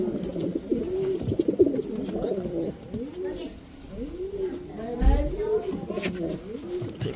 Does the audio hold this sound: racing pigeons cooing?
yes